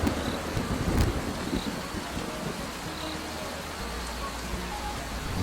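Night rain in a cartoon, a steady dense patter of rain with a low rumble of thunder near the start, continuous and fairly loud.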